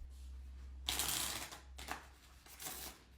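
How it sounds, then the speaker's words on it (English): A deck of playing cards is shuffled by hand in a card-trick demonstration, quiet at first, then two or three crisp riffling bursts close by, with no speech. "Watch closely as I shuffle."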